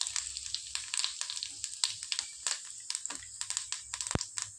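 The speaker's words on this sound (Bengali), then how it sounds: "এটা একটু ভাজা হয়ে যাক" Whole cumin seeds with dried red chillies and bay leaves frying in hot oil, a steady close sizzle with sharp crackling pops scattered throughout.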